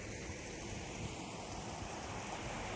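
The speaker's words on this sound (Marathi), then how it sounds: "आमचा बंधारा इकडं गळतोय" Water leaks through a stone check dam on a village stream, a faint, continuous, even rush with no talking.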